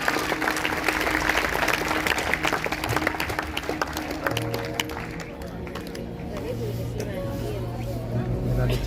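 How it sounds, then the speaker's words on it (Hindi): Loud, sustained applause from a church congregation during a Sunday sermon, dense clapping that gradually thins out, with a voice speaking over it. "जोरदार तालियां बजाएंगे, जोरदार।"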